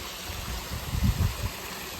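A small man-made waterfall near a hot spring pool gives a steady, fairly faint rush of flowing water with a brief low swell in the middle.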